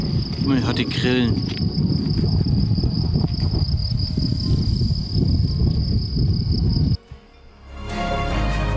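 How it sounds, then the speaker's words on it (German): Crickets chirp in a steady, bright trill across the countryside, nearly unbroken under a low wash of wind, until the scene cuts abruptly near the end to quieter ambience. "Man hört hier nur den Wind und man hört die Grillen."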